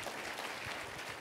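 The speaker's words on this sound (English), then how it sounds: "Let's give yourselves a round of applause." Brief burst of steady audience applause during a conference breakout session, dense and even throughout.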